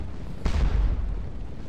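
Artillery firing in Scourge of War Waterloo at the Ligny battle, a single deep cannon boom bursting out after a quiet rumble, then a rolling low decay.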